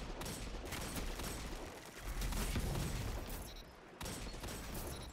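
Shotgun blasts in a first-person shooter video game, a dense burst of loud, booming gunfire with mechanical reload clatter between shots, continuous across the stretch.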